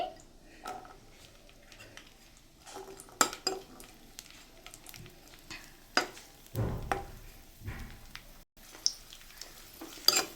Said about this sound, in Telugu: నెయ్యి వేడైన తర్వాత కొన్ని కిస్మిస్ వేసుకోండి.